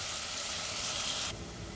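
Onions sizzling in a hot pan with a little salt while being stirred, a loud steady hiss that drops slightly in level near the end.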